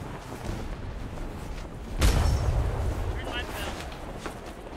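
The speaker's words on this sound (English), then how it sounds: "Port side cannons, everybody." Ship cannons fire from a galleon in the online game Atlas during a fleet battle: one sudden heavy boom with a low rumble cuts through a constant noisy wash of wind and sea.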